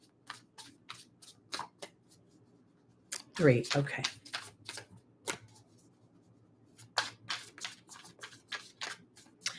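Tarot cards are shuffled by hand in repeated quick riffling bursts, crisp and close, spread across the span with a brief spoken word in between.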